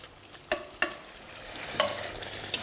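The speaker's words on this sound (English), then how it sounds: "I've heated up some more mustard oil to pan fry the fish" Fish pan-fries in hot mustard oil with a steady sizzle and a few sharp clatters from stirring or turning in the pan, close and moderately loud.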